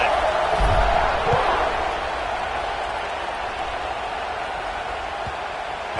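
A football stadium crowd roars at a kickoff in a Texas college game, a loud broad swell of cheering that peaks early and then settles into a steady, slightly softer rumble.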